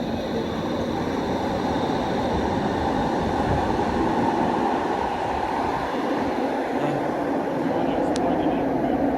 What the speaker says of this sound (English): There's the westbound train.